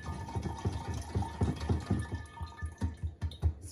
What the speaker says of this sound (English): Take all the seeds out in a strainer.